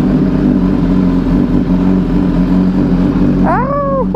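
A BMW S1000RR superbike engine idling and blipping loudly up close, a dense steady roar with a quick rising rev near the end.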